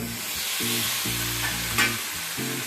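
Eggplant pieces stirred with spices in a pan, a steady sizzle broken by several low scraping strokes and one sharp clink near the end, close and alone.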